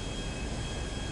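A plane engine in GTA V drones steadily, a loud continuous broadband roar filling the whole moment with no voices.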